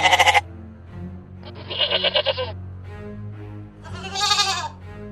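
A goat bleats loudly and close by in three separate calls. The first is a quick stuttering burst and the other two are longer and wavering, with a low hum underneath and no speech.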